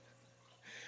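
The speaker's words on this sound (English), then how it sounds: "you might hear some water running in the background" Water runs in a hydroponics setup in a Texas Hill Country seed-starting area, a faint steady trickle with a low electrical hum beneath, swelling to a brighter gush near the end.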